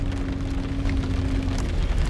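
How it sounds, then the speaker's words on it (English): Steady rain falls outside in a continuous broadband hiss of drops on surfaces, with a faint low hum running underneath and no voices. "It is raining outside today"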